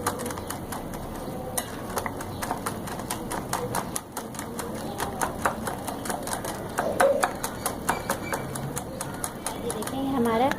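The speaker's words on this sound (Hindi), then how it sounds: "अब इसे आप अच्छे से 5 मिनट और बीट करें।" Biscuit dough beaten vigorously by hand in a bowl, a fast steady run of sharp close taps and slaps for several minutes, with a voice speaking over the beating.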